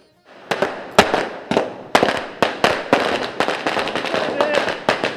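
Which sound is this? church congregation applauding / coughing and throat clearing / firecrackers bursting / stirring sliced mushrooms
firecrackers bursting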